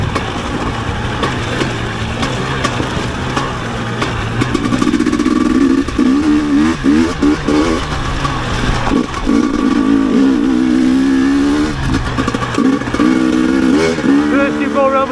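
An enduro dirt bike rides an off-road loop in South Wales, its engine close and loud, revving up and easing off repeatedly in uneven surges and briefly dropping back toward idle.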